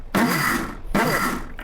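A kitchen blender pulsed in two short bursts, each a loud whirring roar of under a second separated by a brief pause, with no voices.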